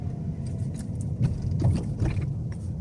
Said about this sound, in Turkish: şurada da aynı şekilde yine bir kasisten geçeceğiz